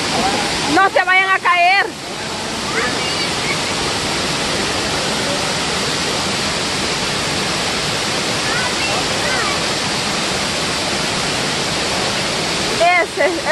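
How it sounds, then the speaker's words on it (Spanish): A large waterfall jet pours down in a powerful, continuous roar heard up close, steady and loud throughout, while people shout and talk over it at the start and the end. "¡Mira aquel que está allá, el chiflón más grande!"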